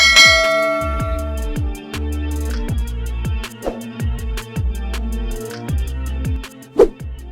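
A notification bell sound effect rings out in a series of loud, ringing chime strikes whose tones hang and fade between hits, heard alone without speech.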